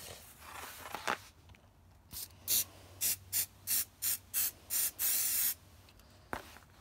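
An aerosol spray can lays gold paint onto a phone case in a string of short hissing bursts that ends in one longer spray, close and fairly quiet, with faint rustling before and after.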